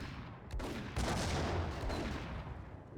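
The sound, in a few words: grenade explosion in video game Max Payne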